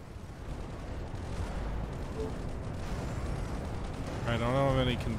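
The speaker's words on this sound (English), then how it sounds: "They just bombed Osaka!" Rumbling bombing explosions in the video game ICBM: Escalation, a dense, continuous booming wash of artillery-like blasts with someone talking over it briefly near the end.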